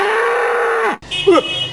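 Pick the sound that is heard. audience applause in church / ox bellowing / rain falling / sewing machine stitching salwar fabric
ox bellowing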